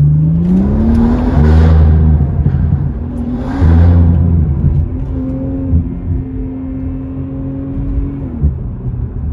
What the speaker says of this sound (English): every time I go through the tunnel, I floor it just to get the burbles going and stuff